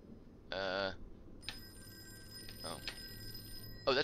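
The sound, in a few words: telephone ringing in Call of Cthulhu video game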